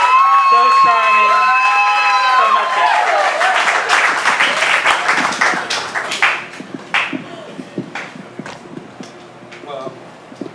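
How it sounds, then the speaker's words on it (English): An audience at a book release event claps and cheers in a mixed burst that tapers into scattered claps. A speaking voice is heard over the opening part. "let's clap for Donald Dunbar because his book is out tonight"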